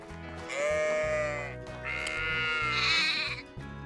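Sheep in the medieval survival game Medieval Dynasty bleat twice in long, wavering cries close by, the second call drawn out and rising before fading.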